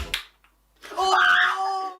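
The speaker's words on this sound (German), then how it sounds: "Den Schrei hätte es nicht gebraucht." Scream from an old video being played back: a brief tonal wailing cry, moderately loud, following a short clap-like sound and a quiet pause.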